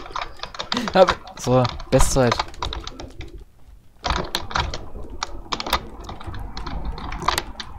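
Rapid computer keyboard typing clatters in dense bursts during a Linux racing game session, with someone speaking over the first half before the keystrokes continue steadily on their own.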